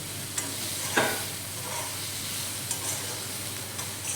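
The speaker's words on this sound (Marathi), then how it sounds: "आता आपण हे मिक्स करून घेऊया." Chillies are stirred in a hot pan for a chickpea-flour zunka stir-fry, giving a steady close sizzle with a few soft spoon taps and scrapes.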